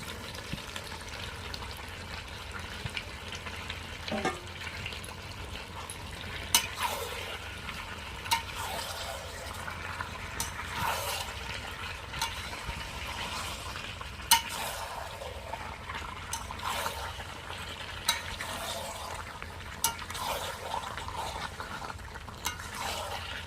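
Gentle stirring and scraping as fried potatoes are added to country chicken curry in a pot, soft clinks of a utensil against metal recurring every few seconds over a low steady background hum.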